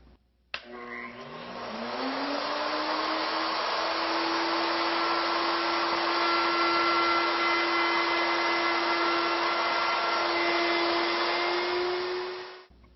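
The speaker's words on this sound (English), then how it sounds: "I'm going to come back around the outside with this router bit profile." A router fitted with a rope molding bit spins up to a steady high whine while cutting the edge of a round wooden tabletop, running continuously for about twelve seconds before winding down.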